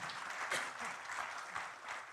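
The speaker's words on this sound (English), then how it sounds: "Big round of applause, please, for Secretary Yellen" Audience applause at the grand launch of Indonesia's Energy Transition Mechanism country platform: steady, dense clapping from a large crowd throughout, moderately loud, with faint voices underneath.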